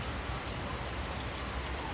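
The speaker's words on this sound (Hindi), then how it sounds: "और आज के दिन ही बारिश हो रही है।" Steady rain falls in an even, continuous hiss at moderate level, with no voices and no thunder.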